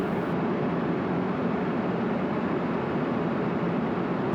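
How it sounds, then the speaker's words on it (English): Steady broadband roar inside the cabin of an Airlink Embraer ERJ cruising from Zambia to Johannesburg, a constant engine and airflow drone with no talk, unbroken for the whole stretch. "We've been cruising now for about an hour out of Zambia on our way to Johannesburg. down in South Africa on this Airlink ERJ."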